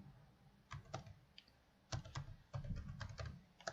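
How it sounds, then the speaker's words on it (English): Bursts of quick, light keystrokes on a computer keyboard, with short pauses between clusters of clicks, heard close and fairly soft while code for a web page is typed. "I need to type it here."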